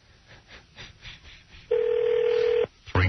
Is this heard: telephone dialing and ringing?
yes